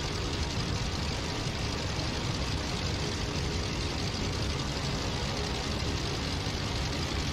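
SPAD biplane engines idling during warm-up in the Rise of Flight simulator, a dense, constant droning rumble that holds steady and loud for the whole stretch with no voices.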